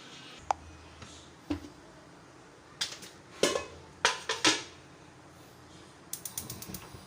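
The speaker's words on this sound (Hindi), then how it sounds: "तो कुकर को खोलते हैं" A pressure cooker of bottle gourd is opened after cooking. Scattered sharp metallic clicks and creaks come from the lid mechanism, in a few bursts over quiet room noise, with no talking.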